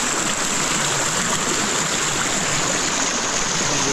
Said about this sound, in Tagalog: Grabe, lakas ng tubig.